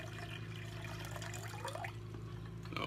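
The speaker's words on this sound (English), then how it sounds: "I'm gonna fill this up with water, H2O" Filtered tap water pours steadily into a blender cup, a continuous close splashing rush that holds level throughout and swells slightly at the end.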